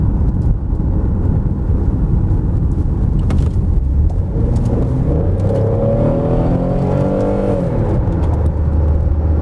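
Citroen XM V6 revving hard on the road, a loud, steady engine roar with rising and falling harmonics as it accelerates and shifts, heard close and alone with wind rush throughout.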